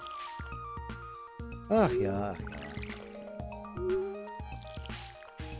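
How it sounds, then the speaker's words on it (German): Flowers are watered in the farming video game Stardew Valley, with soft game drips and trickling splashes layered over background music, while someone talks briefly. "Blümchen gießen."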